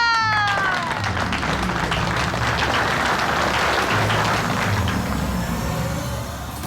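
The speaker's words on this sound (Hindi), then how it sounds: "तालियां!" Loud, dense applause and clapping from a crowd at an engagement celebration, running steadily for several seconds and easing slightly at the end, with musical tones and other sounds mixed underneath.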